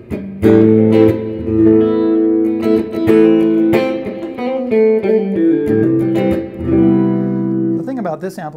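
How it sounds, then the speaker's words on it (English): An electric guitar through a Crate GFX15 amp on its heavy reverb setting plays chords and picked notes that ring out; no distinct reverb tail stands out, and a voice starts speaking near the end. "And that really heavy reverb."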